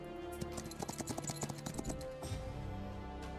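Horse hooves clip-clop in a quick run of hard taps in the strategy video game Songs of Conquest, close and clear, with a faint background tone and no talk.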